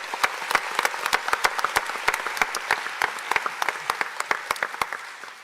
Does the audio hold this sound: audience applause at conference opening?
yes